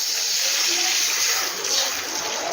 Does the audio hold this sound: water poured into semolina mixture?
yes